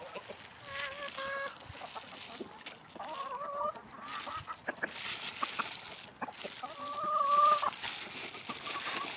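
Chickens cluck and geese honk together outdoors in a farmyard, with repeated calls scattered across the scene at moderate distance and a steady background of barnyard noise.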